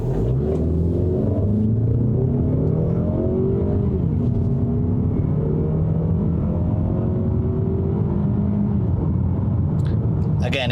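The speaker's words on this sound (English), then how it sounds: "This car is a 6-speed auto, just floor it." A Mazda CX-30 crossover with a six-speed automatic pulls hard under full throttle, its engine drone rising steadily in pitch through the gears, loud and continuous inside the cabin.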